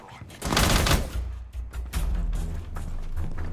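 Gunfire in Rainbow Six Siege, a dense burst of shots that peaks loud early and then trails into lower rumbling bursts, with no voices over it.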